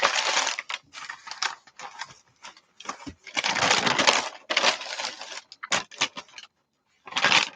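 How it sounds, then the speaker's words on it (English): Masking paper crackles and rustles in bursts as it is handled and torn, close and crisp, with short pauses between the handfuls. "Love the sound of this masking paper."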